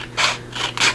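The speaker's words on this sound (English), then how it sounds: "So we're going to go ahead and trim this off. I need to clean my scissors." Sticky scissors trim patterned paper for a scrapbooking envelope tag, three quick close snips in an even rhythm over a low steady hum.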